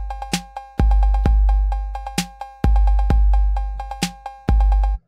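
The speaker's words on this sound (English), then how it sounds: "Let's say instead I wanted a cowbell." A cowbell sample in the BandLab drum machine plays in a looping beat with heavy kick drums. The bright, metallic bell strikes repeat in a fast rhythmic pattern, loud and close, with no talking.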